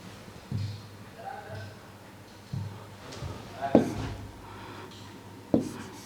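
A marker writing on a board during a chemistry lecture, soft intermittent squeaks and rubbing strokes with a few sharper taps, faint and close, between stretches of a man's speech.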